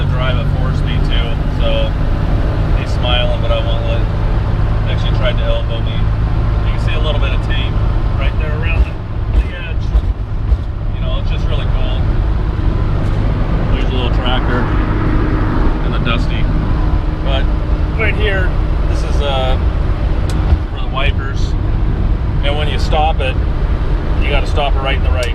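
A 1964 Austin Mini Cooper with a four-speed manual gearbox driving and shifting up into fourth, its engine droning loud and close from inside the cabin, with people talking over it.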